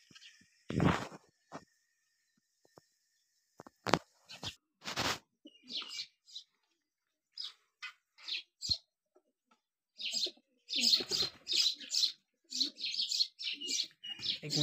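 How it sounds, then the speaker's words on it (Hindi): Short pigeon calls and chirps in scattered bursts, with a few soft coos, close by and otherwise quiet between calls. "मेरा कबूतर है देखो"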